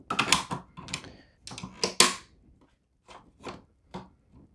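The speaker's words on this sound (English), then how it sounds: "So let's try to insert our magazine here" Metal parts of a Swiss 1889 Schmidt-Rubin rifle clack and scrape as a magazine is pushed in, a cluster of sharp close clicks followed by a few softer, spaced knocks, no voices.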